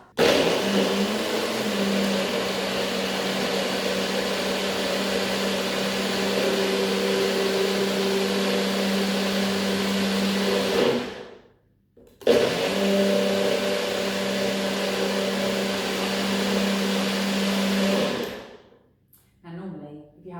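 A loud blender blending a protein shake whirs steadily at high speed, cuts out briefly, then runs again before stopping; a continuous motor drone.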